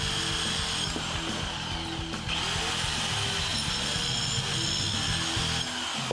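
A Buzzsaw mini circular saw cuts through wood with a loud, steady whine and rasp that runs without a break for about six seconds.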